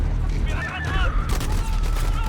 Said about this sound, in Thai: ทหารรัสเซียมัน ยิงเลยเหรอวะ